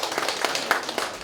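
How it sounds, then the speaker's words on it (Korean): A seated audience at a community talk applauds two local council members, a soft steady wash of many hands clapping at a distance, fairly faint and brief with no voices over it. "박수 한번 부탁드리겠습니다"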